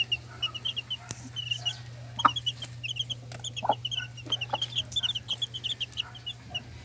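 Old mother hens clucking on a small backyard mini farm, with repeated short clucks and chirpy calls scattered throughout, fairly close, over a steady low hum and no talking.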